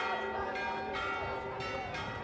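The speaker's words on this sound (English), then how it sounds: "when the bells start ringing and the cross is standing" Church bells ring out in the mountain village of Pyrgos on Santorini, a loud, close, sustained metallic peal with repeated strikes layered over a lingering hum.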